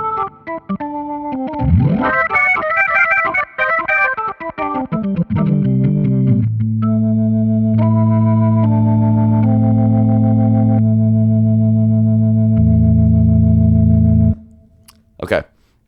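Organ keyboard sound through a Leslie-style rotary speaker effect pushed into gritty distortion, with swirling chords, a rising swept note and then a long held low chord before a sudden cutoff.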